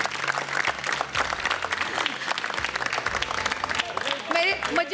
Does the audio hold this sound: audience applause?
yes